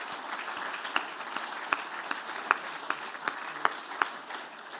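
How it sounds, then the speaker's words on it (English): A crowd at an AFLW Best & Fairest awards event applauds the three place getters with steady clapping and a few sharper, louder claps standing out. "everyone, please give our 3 place getters a big round of applause"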